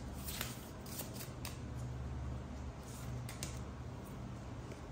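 Tarot cards are being shuffled by hand in a quiet room, giving a soft, steady riffling rustle with a few faint snaps, close and alone with no talking.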